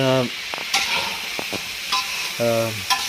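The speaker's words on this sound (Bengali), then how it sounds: "রোস্টগুলো সুন্দর করে ভেজে নিচ্ছেন তেলে দিয়ে।" Roast pieces of fish and meat fry in hot oil with a continuous close sizzle and occasional stirring scrapes, while a voice speaks intermittently over it.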